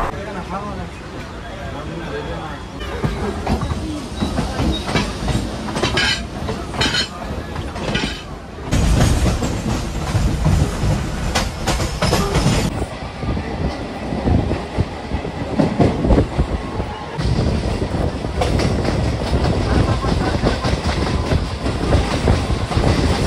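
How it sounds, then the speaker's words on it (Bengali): Suburban local train running from Sealdah toward Lakshmikantapur, heard from inside with a loud continuous rumble, rattling carriages and rhythmic clickety-clack of wheels over rail joints, shifting in intensity as it travels. "আমাদের ট্রেন 5টা 21-এ 1 মিনিট লেটে ছেড়ে বেরিয়ে গেল শিয়ালদা রেলওয়ে স্টেশন থেকে।"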